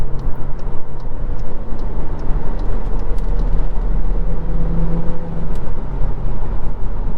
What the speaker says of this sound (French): Je sais pas si vous avez bien entendu le bruit du moteur, mais c'était plutôt cool.